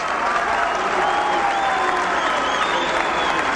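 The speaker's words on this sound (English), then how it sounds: "As the crowd begins to applaud" Crowd at a 1981 New York State high school wrestling championship final applauds in a steady, full wash of clapping and some cheers, with an announcer talking over it.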